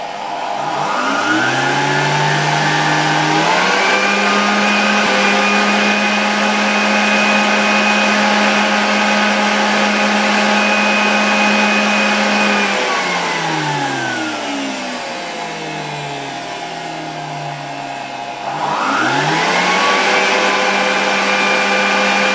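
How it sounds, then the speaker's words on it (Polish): A Zelmer vacuum cleaner, opened up during assembly, spins up and blows air hard through an opening, a loud steady whine that winds down near the end and then starts up again. "tutaj naprawdę przez ten otwór w odkurzaczu tak albo tak bardzo mocno dmucha"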